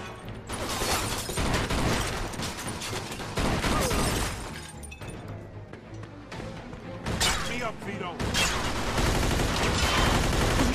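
Gunfire in the video game Mafia 2: dense bursts of shots and shattering impacts pound almost continuously, loud and close, with a player's voice talking over the barrage.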